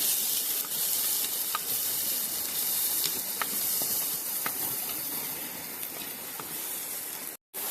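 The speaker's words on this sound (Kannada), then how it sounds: "ಈಗ ಬಿಸಿಯಾಗಿದೆ. ಈಗ ನಾವು ಈರುಳ್ಳಿಯನ್ನು ಆ್ಯಡ್ ಮಾಡಿಕೊಳ್ತಾ ಇದ್ದೇವೆ." Onions hit hot oil in a pan while cooking a leafy greens stir-fry, producing a loud, steady crackling sizzle with scattered pops that runs unbroken for several seconds.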